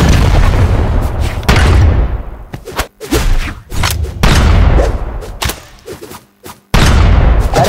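A cannon fires repeatedly in a Brawlhalla match: loud booming blasts with long rumbling decays, several shots spaced irregularly, one after another.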